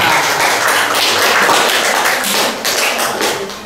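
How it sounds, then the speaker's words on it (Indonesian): An audience at a mock court session claps in applause, a loud, dense patter of many hands that carries on steadily and begins to thin toward the end. "tepuk tangan untuk kita semua."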